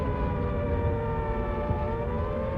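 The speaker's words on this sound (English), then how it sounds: "That night, the sirens went quite early." An air raid siren sounds loud and sustained, its layered tones holding steady throughout.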